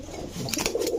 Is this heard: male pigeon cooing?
yes